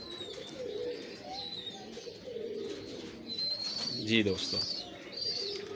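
Pigeons coo repeatedly in a breeder setup, soft and close. Someone talks over the birds.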